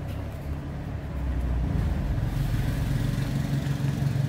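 A 1933 Ford three-window coupe street rod with a 355 small block Chevy V8 and baffled exhaust catches and settles into a steady, loud, rumbling idle close by, with no talking.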